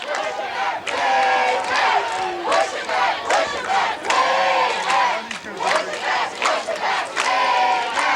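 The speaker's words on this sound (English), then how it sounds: "The stands over here are packed. Big crowd up here in the back, too." A big crowd packs the stands at a 1989 high school football game between Scarsdale and Roosevelt, roaring and yelling in loud, continuous waves that swell and dip.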